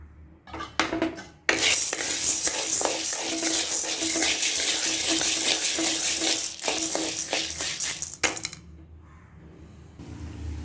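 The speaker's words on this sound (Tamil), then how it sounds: "இப்போ கடலை பருப்பு வறுத்து எடுத்துக்கலாம்." Chana dal roasting in a pan for idli podi, a continuous dry rattling and scraping as the lentils are stirred against the metal, loud and close for about seven seconds before quieting.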